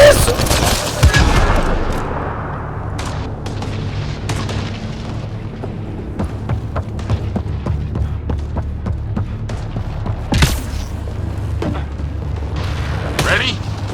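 Rapid enemy gunfire from a Mass Effect Andromeda firefight crackles in repeated sharp bursts over a low rumbling game backdrop, with a few heavier booms mixed in, fairly loud and steady throughout.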